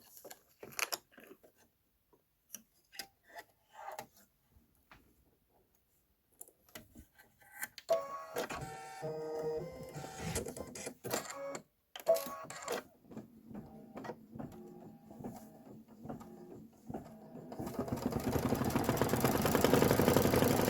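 An embroidery machine stitches a window ledge fill in dark gray thread, starting with faint sparse ticks, then building into busy mechanical whirring and clicking that grows steadier and louder toward the end.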